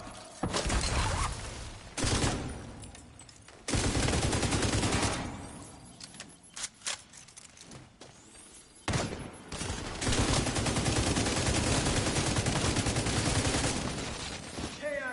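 Loud automatic gunfire in the video game The Division 2 rattles in repeated long bursts broken by short pauses, with mechanical clatter between volleys.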